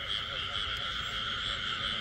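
A frog in a flooded field croaks in a steady, buzzing trill, fairly close, over faint background noise.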